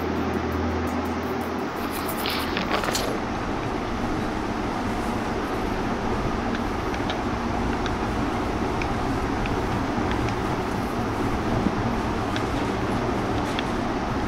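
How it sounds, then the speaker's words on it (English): A monorail train rides along in the video game Metro Last Light Redux, a continuous rolling rumble and hum that stays steady and moderately loud throughout, with faint clicks and rattles over it. "In the past, trains were ordinary things. But now, this monorail seems magic, doesn't it?"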